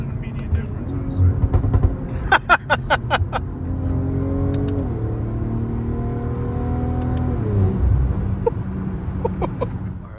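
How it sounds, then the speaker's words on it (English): A tuned BMW M340i xDrive with ECU and transmission tuning accelerates from inside the cabin, its engine note climbing through several quick shifts and dipping between gears, with people talking over it at the start. "We are in Davis's tuned M340i XDRIVE with XHP and MHD as the ECU tune, XHP as the transmission tune"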